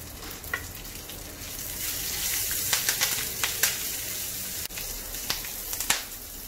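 Curry leaves and chilies spit and crackle in hot oil for a masala sundal tempering, a loud steady sizzle broken by sharp pops near the pan, with no voices.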